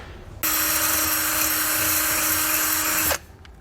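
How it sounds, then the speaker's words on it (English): A power drill with a 1/8 drill bit bores into a motorhome hubcap, whining at a steady high pitch for nearly three seconds after a quiet start, then stopping abruptly, close and loud with no talking. "you'll drill out with a 1/8 drill bit, and you'll drill them right into your hubcap"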